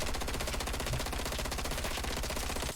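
Sustained rapid automatic gunfire from Black Ops Cold War multiplayer, a dense unbroken burst of rounds at steady rhythm lasting nearly three seconds, loud and close with no talking.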